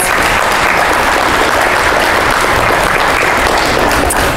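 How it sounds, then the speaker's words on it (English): A high school audience at an evening community meeting on attendance boundaries bursts into loud, steady applause, a dense unbroken wash of many hands clapping close by for the whole stretch. "Can we give them a big uh, round of applause?"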